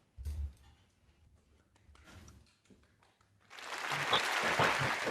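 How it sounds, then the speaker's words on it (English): Recorded applause played back during a virtual magic talk swells suddenly after a few soft taps and knocks, a dense steady clapping wash that holds to the end. "I'm still trying to get used to me doing my own applause here."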